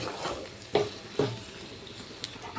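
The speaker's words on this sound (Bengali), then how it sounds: "এইভাবে ভালোভাবে কষাতে হবে মশলাটা" Spice paste with a splash of water fries in a pan, a soft continuous sizzle broken by a few sharp scrapes and knocks of the stirring spoon.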